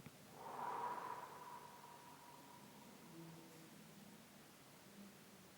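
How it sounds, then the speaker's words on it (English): A slow, deep inhale is taken through the nose during a guided meditation breathing exercise, a soft airy rush that swells and then fades into a long quiet tail. "And inhale."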